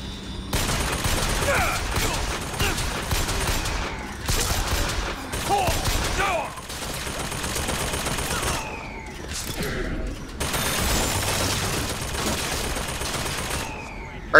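Sustained bursts of gunfire in the first-person shooter Bioshock Infinite, loud rattling volleys in several long stretches separated by brief pauses, close and dense, with a voice talking over it.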